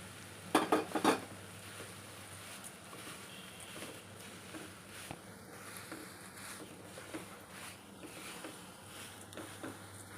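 Papad poha chivda is stirred in a pan with a little oil, hing and turmeric. A few sharp clinks of a spoon against the pan come early, then soft, quiet scraping and stirring continues.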